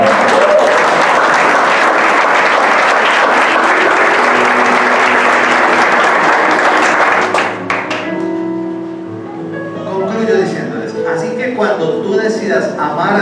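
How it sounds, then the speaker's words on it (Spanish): Church congregation breaks into loud, sustained applause that fills the space, then tapers off into scattered claps and crowd noise. "Dale un aplauso al Señor."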